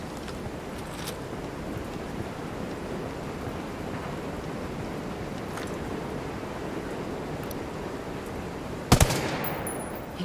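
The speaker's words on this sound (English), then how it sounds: "Heads up, we got a turret." Turret machine gun fire in Ghost Recon Wildlands rattles as a steady, continuous stream under a dense wash of battle noise, with a sharper, louder burst near the end.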